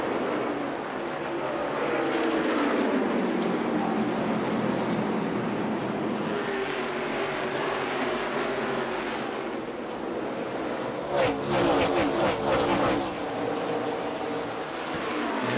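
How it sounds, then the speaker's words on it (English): NASCAR Xfinity race cars thunder past on the track, a broad roar that swells and fades as cars pass, heard from a distance with some wind buffeting. "what a great view you've got of these cars exiting turn 4"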